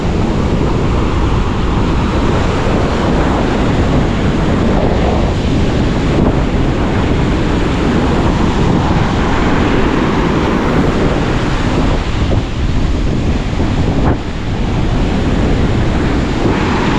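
Ocean waves wash in near the shore under a constant blustery wind, a loud unbroken roar of surf and microphone buffeting that carries on with no voices.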